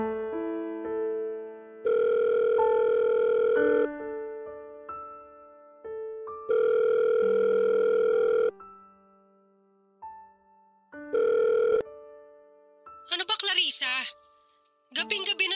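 A landline telephone rings late at night in repeated electronic trilling bursts separated by pauses, clear and close, with a voice briefly heard near the end.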